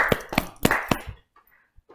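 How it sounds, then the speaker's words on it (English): Applause for Max Mandu in a small studio: four sharp, evenly spaced hand claps, close and clear, that stop abruptly and leave near silence. "Let's give him a round of applause."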